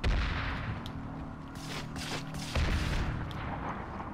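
Gunfire and explosions crackle through a Planetside 2 battle, with sustained bursts of shots, dense rattling volleys and a heavier blast near the middle, loud and continuous with no talking.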